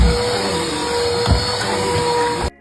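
A vacuum cleaner runs in a comedy skit, giving a steady, close, unbroken roar with no talk before it cuts off abruptly.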